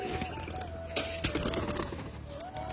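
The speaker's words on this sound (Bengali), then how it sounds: "তো একেও তোমাদেরকে দেখাচ্ছে এই পায়রাটাকে" Pigeon cooing in a village setting, a few soft coos standing out over a steady low background hum and faint rustling, fairly close and moderate in level.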